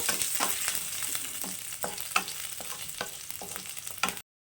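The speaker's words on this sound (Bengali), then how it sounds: "তো রসুনটা একটু হালকা ভেজে নেব" Chopped garlic fries lightly in oil with cumin seeds, a close steady sizzle broken by a series of sharp spatula scrapes and taps against the pan, ending abruptly; no talking.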